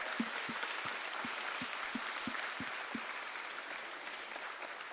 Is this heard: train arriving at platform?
no